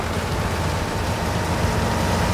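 Steady, dense rain hisses continuously at an even loudness in the Farming Simulator 22 video game, a broad wash of noise with no talk and no distinct drops standing out.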